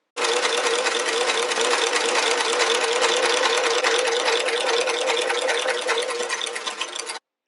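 A sewing machine stitches keyhole buttonholes on a lined vintage-style vest, a loud, fast, continuous mechanical whir running without pause for about seven seconds before stopping abruptly.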